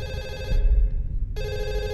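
A telephone rings in a horror video game, two loud electronic ring bursts separated by a short pause, heard alone without voices.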